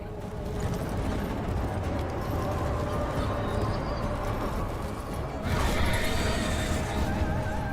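Horse hooves galloping in the Warframe video game, a steady dense clatter of hoofbeats running throughout, loud and close, with a brief rise in intensity near the end.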